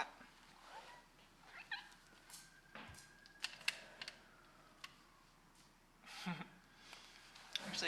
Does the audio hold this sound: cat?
yes